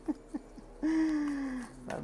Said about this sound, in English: birds are chirping in the background.